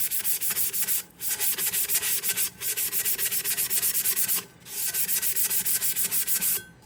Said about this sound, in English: you're going to want to sand your tumbler down